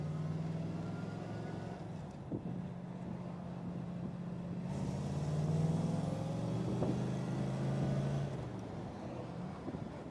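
A 1961 Chevrolet Corvette Fuelie with a fuel-injected V8 drums along at moderate volume while driving in Las Vegas, holding a steady low note that shifts slightly and swells as it moves through the gears.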